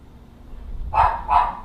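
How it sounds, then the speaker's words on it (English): Two sharp dog barks, close and fairly loud, follow a brief pause, with a short gap between them and low room noise underneath. "a dog's barking has ruined yet another YouTube video or recording"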